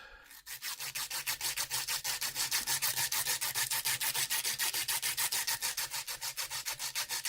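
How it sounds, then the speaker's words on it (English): A wooden guitar pick rubbed back and forth on sandpaper, giving a fast, even run of roughly thirty rasping strokes, close and crisp, with no talking. "before you go to the next grit of next level of sandpaper, always take it and drag it like that"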